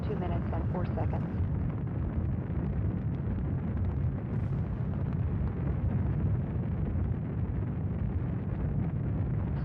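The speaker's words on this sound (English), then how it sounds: "Standing by for separation of these solid rocket boosters at 2 minutes and 4 seconds." A space shuttle climbs during launch around solid rocket booster separation, a continuous deep roaring rumble heard from afar, steady and uninterrupted, with faint voices in the background.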